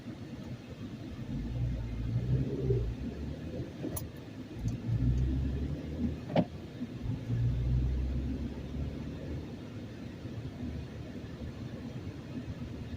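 A manual transmission car braking and downshifting into first gear as it rolls to a stop, with a steady low engine and road rumble heard from inside the cabin and no talking.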